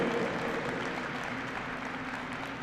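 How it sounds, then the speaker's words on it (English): Standing ovation from the arena crowd at the U.S. Figure Skating Championships after a junior men's short program, a broad, distant wash of steady clapping that holds level and fades slightly. "Yeah, standing ovation."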